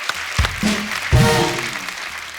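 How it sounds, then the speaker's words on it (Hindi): A studio audience on a Hindi comedy talk show claps for arriving guests, a loud burst of applause that swells, eases slightly, then surges again before tapering, with a host's voice briefly heard between. "एक बार जोरदार तालियां हो जाए हमारे मेहमानों के लिए।"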